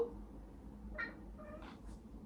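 Pet cat Albert chatters and meows in a few short, near calls while watching birds through an open kitchen door, over a quiet room hum.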